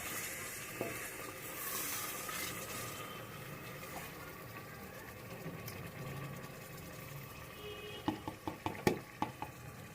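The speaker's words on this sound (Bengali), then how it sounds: "তো সব কিছু দিয়ে তারপরে মাংসটাকে কষাবো" Meat with sour yogurt sautéed in a pan for biryani gives a steady low sizzle, then a quick run of sharp spoon clicks and scrapes against the pan near the end.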